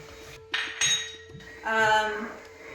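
A spoon knocks and clinks against a pot while stirring a Thai-style soup after spring onions go in, with a few sharp metallic taps and a brief ringing clink, close and quiet.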